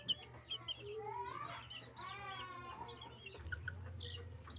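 Young green-legged chicks about five weeks old cluck and peep in a steady, close chorus, with a faint low hum running underneath.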